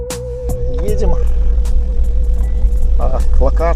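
A UAZ off-road vehicle drives along with a steady low engine rumble and road noise running throughout, while people talk over it inside.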